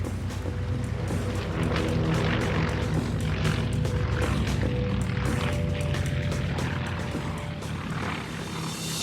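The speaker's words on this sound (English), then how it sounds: "these Cold War-era Grummins remain unchallenged in their new role as Firecat retardant bombers" Cold War-era Grumman Firecat retardant bombers fighting a large Canadian wildfire, their engines droning steadily and loudly for the whole stretch with no talk.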